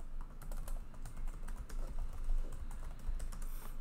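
Rapid typing on a computer keyboard, a continuous patter of quiet, close key clicks with no voices.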